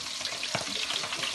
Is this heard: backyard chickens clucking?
no